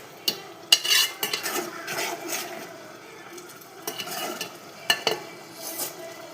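A spoon stirs chilli powder and coriander powder into a sizzling prawn and tomato curry in a metal pan, giving repeated scraping clinks over a soft background fry.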